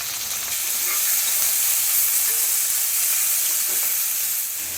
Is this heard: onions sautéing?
yes